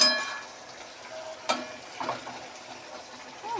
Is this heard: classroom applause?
no